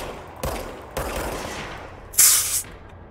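Enemy gunfire in the action game Control: a few sharp shots ring out, followed by a brighter, louder blast near the end, all close and with no talking.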